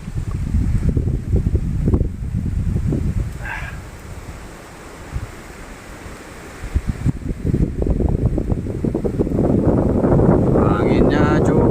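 Strong wind buffets the microphone on a mountain hiking trail at about 1141 m, a steady roaring gust that eases briefly in the middle before surging back, with scattered footsteps and rustling.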